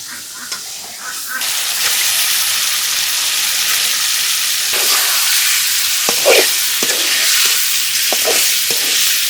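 Hilsa fish pieces cook in oil with turmeric and chili powder, giving a loud, broad, hissing sizzle up close after a quieter start, with occasional clinks and stirring scrapes.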